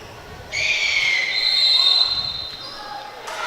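A referee's whistle at a Custer Wildcats high school volleyball match gives one long, steady blast of about two seconds over gym ambience, then fades into the hall's murmur.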